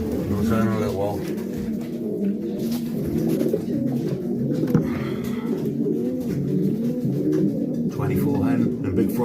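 Racing pigeons coo continuously in a loft, a dense layer of low, throaty calls throughout, with voices talking over them.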